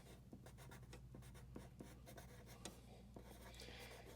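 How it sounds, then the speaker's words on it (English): A pen or pencil writes notes on paper beside a facial proportions drawing, with steady rapid scratching strokes, close and soft, over a low hum. "I'm going to make some notes over here"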